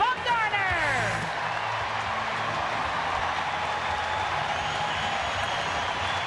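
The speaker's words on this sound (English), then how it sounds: "And the cheer a little louder" Baseball crowd at a Giants home game against Cincinnati cheering in a steady, broad roar that swells slightly, with a faint announcer's voice blending underneath.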